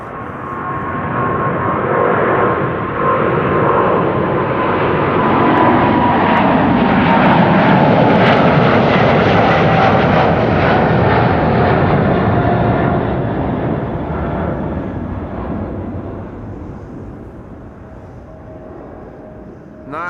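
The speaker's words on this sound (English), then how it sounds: "777-200 going to Houston in Texas." A KLM Boeing 777-200 jet at Amsterdam Schiphol Airport roars loudly and steadily, swelling to a peak midway and then slowly fading, with a sustained engine whine over the broad jet rumble.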